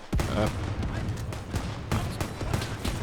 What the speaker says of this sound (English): there goes the artillery coming in